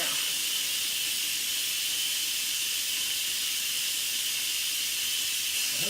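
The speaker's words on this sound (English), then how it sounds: "All right, so now I'm going to release the steam." A cooker vents steam in one loud, continuous hiss that holds steady and close for about six seconds without pause.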